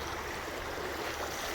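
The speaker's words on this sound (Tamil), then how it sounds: "இது வந்து சின்ன ஆறு" A small river stream flowing at Achankovil, a steady, close rushing wash of water with no pauses or voices.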